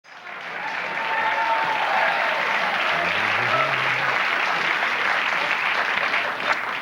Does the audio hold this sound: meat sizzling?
no